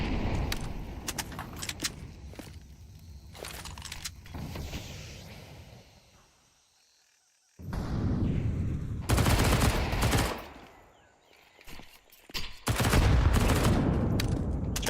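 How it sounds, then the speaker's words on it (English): SMG gunfire in a Counter-Strike match rattles in rapid bursts under faint background noise, pausing in near silence before louder fusillades return, with a final sustained stretch of shooting. "Tarky finds 1 and 2, making some money on the SMG."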